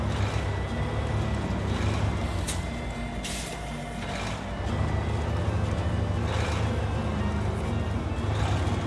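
A heavy truck engine in the video game SnowRunner rumbles steadily at idle, a deep continuous drone with brief hissing bursts of air.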